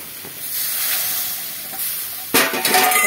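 Greens frying in a pan with rice flour stirred in, giving a steady sizzling hiss that jumps louder near the end as the spatula scrapes and stirs.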